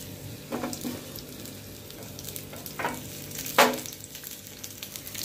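Four chopped green chilies frying in a spoonful of oil, a soft steady sizzle with a few louder crackling spurts, close and alone.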